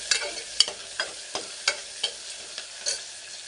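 Onion with rock salt frying in a pan for vegetable white pulao, a soft steady sizzle broken by regular sharp scraping clicks of a spatula stirring, close and clear with no talking.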